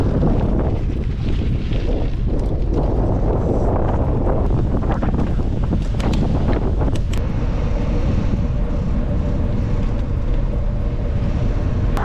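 Strong wind blusters across the microphone outdoors near a hillside church by a river, a constant loud roar with gusty rumble throughout.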